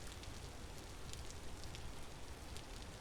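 Steady rain falling in the game Vintage Story, a continuous even hiss of drops on surfaces with faint scattered patters, soft and unbroken throughout with no voices.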